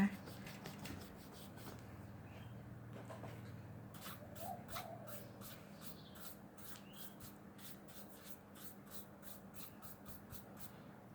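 Soft scratchy strokes of colored pencils shading on paper while coloring a fashion figure sketch, faint and close, with quick rhythmic scribbling bursts in the latter half and a voice speaking quietly at times.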